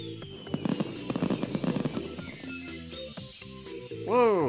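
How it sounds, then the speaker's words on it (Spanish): A burst of crackling, popping cartoon fireworks, with rapid bangs and sparkling crackles, ends in a rising whistle, all fairly close and busy. "Mira, Carl, fuegos artificiales."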